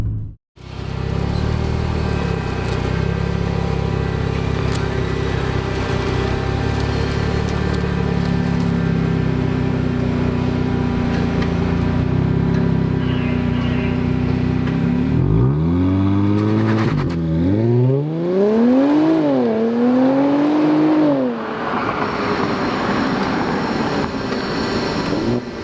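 A new Nissan Z sports car launches hard under launch control, its engine holding a loud sustained drone before ripping through rapid rising revs and gear changes with sharp pitch sweeps, close and powerful throughout with no talking.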